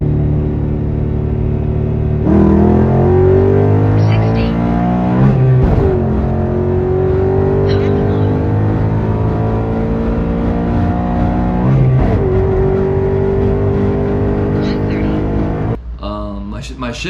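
A Coyote-swapped SN95 Mustang makes loud wide-open-throttle pulls, its engine roaring and climbing in pitch, dropping at each gear shift, then winding up again, with a voice heard over it.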